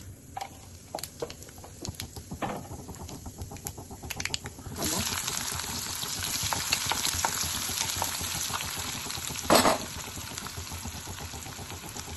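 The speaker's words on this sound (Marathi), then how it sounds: "तेल गरम झालं आहे आता आपण मोहरी जिरं" Mustard seeds and cumin frying in hot oil for a Vidarbha-style vange sole curry: a few faint clicks give way to a steady, loud crackling sizzle, with a sharp pop burst near the end.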